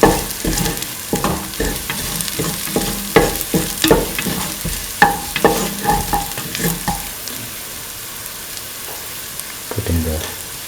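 Duck meat sautés in a hot pan with a loud sizzle and rapid clattering stirs from a spatula, easing into a quieter fry toward the end.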